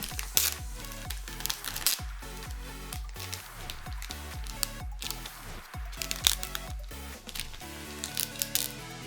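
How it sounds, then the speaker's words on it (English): Plastic wrap peeled and crinkled off a new Apple wireless keyboard, a close series of sharp crackles and rustling tears that keep coming in quick irregular bursts with no talk. "So let's take the plastic off here."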